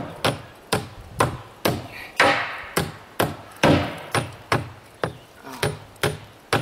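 Hammer blows striking the terminals of batteries during a homestead cleanup, a steady series of about a dozen loud, sharp metallic-wooden whacks spaced roughly half a second apart, close by with no talk.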